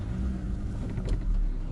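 A car reverses slowly on a rural property, its low engine rumble steady and close throughout with no talking.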